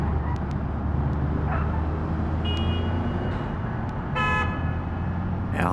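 Car horn honks in the BeamNG driving game, several short toots over a constant engine and road drone, with one longer blast near the end.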